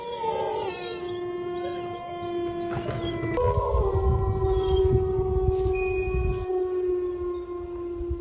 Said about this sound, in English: the sound of wolves in the forest at night makes him nervous